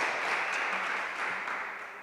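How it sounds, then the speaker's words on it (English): Audience applause fills a conference session at a technical meeting, a steady dense wash of clapping that holds for about two seconds before tapering slightly. "we can applaud again the speaker"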